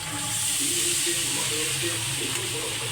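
Water poured onto spices frying in a pan for a lentil and greens dish produces a steady, close, bright sizzle and hiss that holds without a break for a few seconds.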